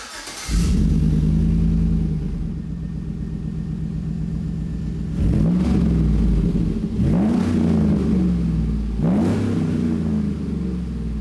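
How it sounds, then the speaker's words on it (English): A Chevrolet Silverado/Sierra 1500 pickup fitted with an aFe Rebel dual side-exit stainless steel exhaust starts up and settles into a loud, steady idle, then gets three quick blips of revving that rise and fall in a rhythm. "I was really happy how this aFe Rebel exhaust sounds."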